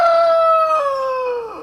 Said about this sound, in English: Look at the chickens. Even the chickens.